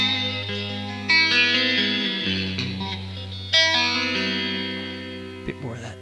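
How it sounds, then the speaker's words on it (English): Electric guitar played through a phaser with added reverb, ringing chords struck twice and left to sustain and swirl, loud and ambient with no talk. "I'm going to give that a nice bit of reverb and see how ambient."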